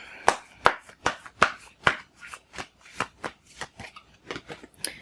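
Tarot cards are shuffled by hand in a steady run of crisp, close riffling slaps, each sharp snap followed by a brief pause, growing slightly softer toward the end.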